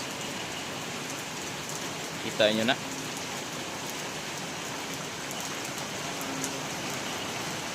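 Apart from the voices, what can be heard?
heavy rain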